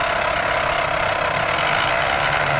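Continuous close whir of an electric fan driven by an Arduino UNO and switched from a keyboard, a loud, even motor-and-blade hum that holds steady with no speech.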